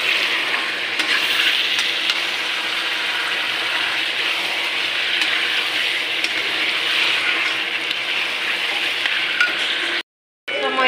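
Chicken meat frying in a pan with steady, broadband sizzling throughout, close and fairly loud, then a sudden cut to silence near the end; no voices.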